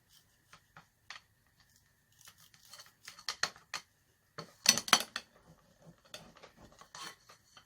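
Aged cheese is scraped across a grater for spinach börek, a run of sharp, uneven rasping strokes that start sparse, bunch into quick bursts in the middle, then taper off, close and without speech.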